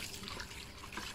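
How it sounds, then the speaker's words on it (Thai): Tap water runs steadily into a sink while whole fish are rinsed clean, a continuous close splashing stream with no voices over it. "หลังจากนั้นก็ล้างน้ำผ่านนะครับให้น้ำไหลผ่านได้ทั่วมันจะได้สะอาดมากขึ้นนะครับ"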